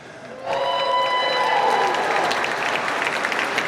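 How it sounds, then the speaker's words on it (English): After a brief quiet moment, a room full of people at a benefit gala in New York breaks into loud, sustained clapping that continues steadily. "Thank you for that applause"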